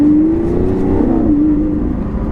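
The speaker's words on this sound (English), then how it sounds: "the V12, and there is no sound like a Lamborghini V12" A Lamborghini V12 with its sports exhaust valves open sends out a loud, close, smooth droning exhaust note that climbs slightly in pitch and holds steady for a couple of seconds.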